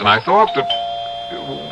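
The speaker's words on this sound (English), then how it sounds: "that's my doorbell" A single electronic doorbell chime rings out and lingers as a steady tone, right after a voice speaks; faint talk resumes near the end.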